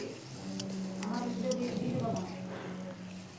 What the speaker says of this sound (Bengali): আমি আলুটা দিয়ে এখন নাড়াচাড়া করে খুব ভেজে নিয়ে তো আমি খুব ভালো করে কষিয়ে নিচ্ছি